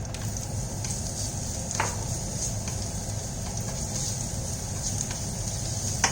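Tofu frying in a pan: a steady, even sizzle throughout with faint crackles and occasional small pops, close and moderately loud, with no voices.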